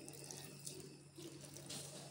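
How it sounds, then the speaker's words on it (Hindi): Yakhni broth poured from above over layered rice set for dum, a soft, brief liquid trickle and splash, quiet and close, with no voices. "से थोड़ी सी यखनी ऊपर से ऐड करेंगे।"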